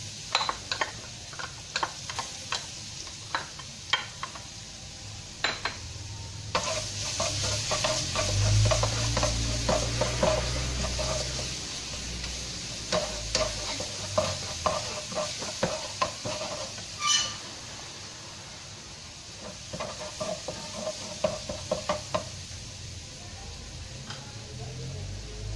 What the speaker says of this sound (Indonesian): Okey, jom kita tumis. Kita letak bawang putih yang cincang.